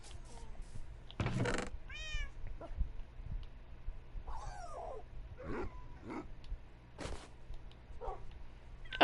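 Meows from a cat in the video game Minecraft, several short cries scattered over quiet game ambience, with a few other soft game sounds between them.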